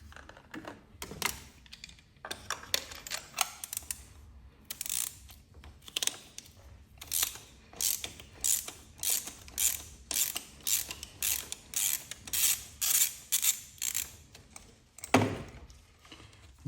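A hand ratchet and 14mm socket loosening spark plugs on a Mini Cooper S F56 engine, close and clicking in quick repeated bursts with brief pauses between strokes, no talking.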